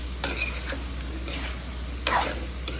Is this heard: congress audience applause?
no